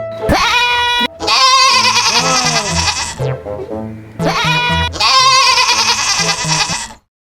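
A goat bleats loudly and close up in long, wavering cries, two main bursts separated by a short pause, with no talking.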